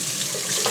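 Hot water runs from a tap into an 8-gallon egg washing tub, a steady broadband rush with no speech.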